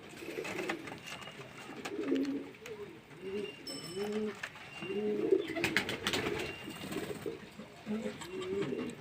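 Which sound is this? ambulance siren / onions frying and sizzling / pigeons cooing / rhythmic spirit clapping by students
pigeons cooing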